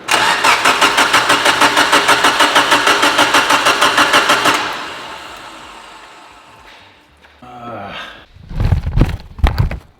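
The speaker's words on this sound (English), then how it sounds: "Let's go ahead and fire this thing up" A Mitsubishi Evo 8 engine, run without its belt and with the fuel line unhooked, cranks in a fast, even rhythm for several seconds. It pauses briefly, then fires into a few loud, rough bursts close by.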